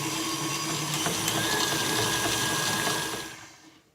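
Electric mixer whirring through egg and wet ingredients for sugar cookies, a steady close motor buzz with faint clicks of beaters against the bowl, fading out at the end.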